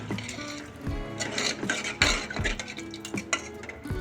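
A spoon stirs raw mango dal in a metal pot, giving repeated scraping and clinking knocks at an irregular rhythm, close and moderately quiet, with no talking.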